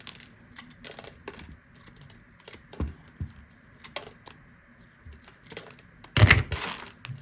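Roots of a seed-grown silver maple bonsai being broken apart from the root ball during repotting, heard as scattered small cracks, snaps and taps with a louder crunching burst near the end.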